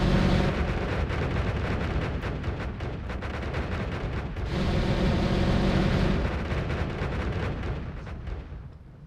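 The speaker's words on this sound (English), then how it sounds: "So with this wand, we are going to fire a machine gun type firework, and it is going to be glorious" Rapid machine-gun firework wand bursts fired in the video game Noita, a dense, continuous rumble of crackling blasts that swells again midway before tapering off, loud and without speech.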